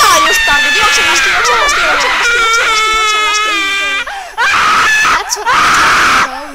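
A woman's shrill, wavering screams ring out in the horror video game Slendytubbies, loud and sustained, breaking off briefly before resuming.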